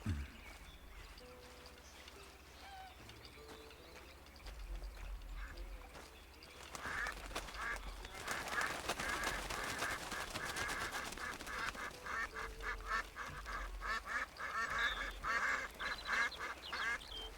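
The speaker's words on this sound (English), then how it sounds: "Hi, ducks." Ducks quack repeatedly in Red Dead Redemption 2, a sparse few calls at first, then a denser, louder chorus of overlapping quacks and honks that keeps going.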